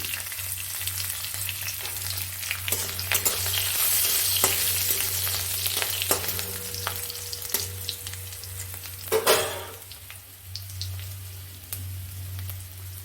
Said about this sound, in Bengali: আর অল্প একটু জিরে ফোড়ন দিলাম, গোটা সাদা জিরে, একটু কসুরি মেথি, আর এই রসুন কুচিগুলো দিয়ে দিলাম